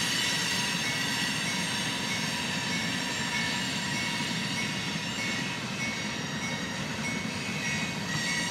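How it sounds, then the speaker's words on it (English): An outbound freight train rumbles past steadily in Hamlet, North Carolina, with a continuous roar of wheels and faint squealing, loud and close, with no talking. "And there goes a outbound freight train."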